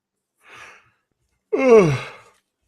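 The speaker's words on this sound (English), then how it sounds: "Once again, I do apologize for yawning." One human yawn: a soft breathy inhale, a short pause, then a louder drawn-out voiced exhale that slides downward in pitch and fades. It is close and heard alone.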